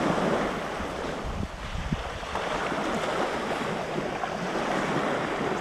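Sea waves breaking and washing around at Playa Roquetas de Mar in Andalusia, a steady broad surf roar mixed with wind buffeting the microphone, no voices.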